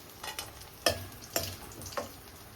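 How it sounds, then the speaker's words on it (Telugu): Dried prawns fry in a pan, a soft steady sizzle broken by four sharp stirring scrapes at regular intervals. "ఇదిగోండి, ఇలా వేయించుకోండి మంచిగా"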